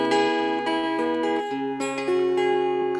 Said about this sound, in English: It's called the Wink Mountain Dulcimer.